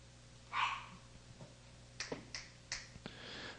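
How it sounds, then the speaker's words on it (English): One short, faint dog bark sounds indoors in a quiet room, followed by several crisp finger snaps. "apologize for the dog barking there"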